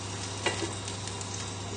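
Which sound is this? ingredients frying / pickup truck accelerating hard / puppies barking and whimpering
ingredients frying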